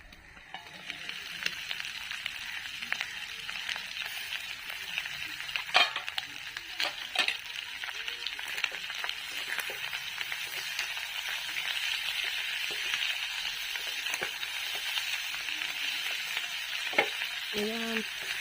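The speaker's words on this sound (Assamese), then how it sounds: "এতিয়া ল' ফ্লেমত সিজাই থাকিম মাংসখিনি।" Pork dry fry cooking in oil with spices over a low flame in a covered pan, a steady close sizzle with occasional crackles and a few light utensil clinks near the end.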